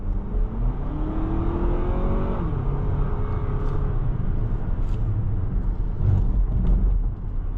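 A 2024 Lexus RX 350 Premium Plus accelerates on the road, heard from inside the cabin as a rising engine whir that climbs through a gear change, then settles into steady road and tyre noise.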